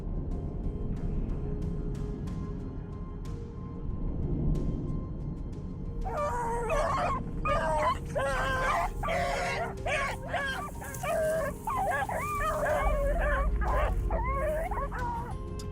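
Hunting dogs wearing GPS collars bark, yip and howl in repeated bursts over a steady low rumble, starting about six seconds in and continuing to the end.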